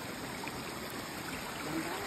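A clear mountain stream near the Sumadal tribe in Tinglayan flows with a soft, continuous rushing and trickling, faint and steady throughout.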